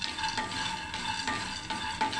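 Peanuts dry-roasting in a dry pan for a stuffed brinjal curry, with a steady soft sizzle and rustling scrapes as they are stirred in repeated strokes, fairly close and alone.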